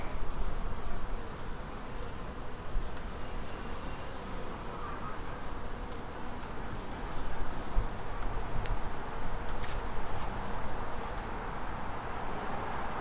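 Honey bees hum and buzz at an open hive during a frame inspection, a dense, continuous close drone that holds steady throughout, with no talking.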